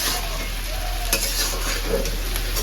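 Ridge gourd sizzles and fries steadily in a pan, with occasional scrapes and clinks as it is stirred; a close, continuous crackle with no voices.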